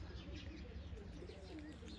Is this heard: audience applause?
no